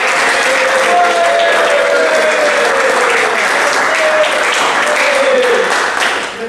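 A class gives applause to the best group in an automotive engineering teacher-training session, with loud, continuous clapping and cheering voices that stay steady for about six seconds before stopping abruptly.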